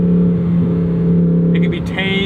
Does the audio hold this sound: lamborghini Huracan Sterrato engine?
yes